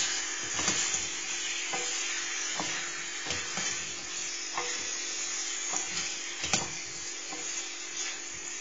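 Pork kidneys sizzle steadily in a frying pan, with soft clicks and scrapes from stirring now and then over the quiet, continuous frying.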